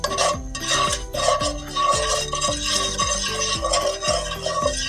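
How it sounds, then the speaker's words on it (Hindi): A spoon stirring salt into hot oil in a pot on the stove, heard as a rhythmic run of metallic scrapes and clinks against the pot, close and fairly loud, with no talking. "इसमें नमक ऐड कर लेंगे और इसे भी मिक्स कर लेंगे"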